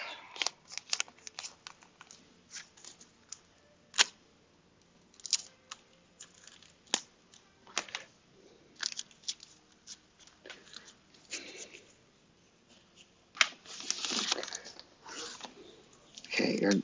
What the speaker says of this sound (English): Let me retape this back up.